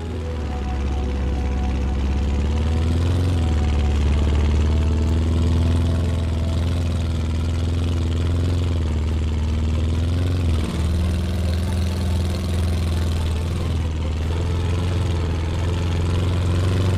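Heavy tank engines in the war video game Land of War rumble steadily at close range, a deep low drone with a mid-pitched whine that rises and dips, no talk over it.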